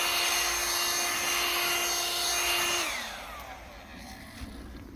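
A newer Ryobi inflator blower runs with a steady, quieter motor whine and airflow, then winds down partway through, leaving a soft hiss.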